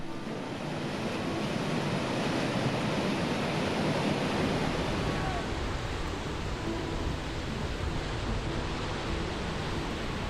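The long rapid on the Zambezi River gives a broad, steady roar of big crashing waves and rushing whitewater, loud and unbroken, with wind buffeting the microphone.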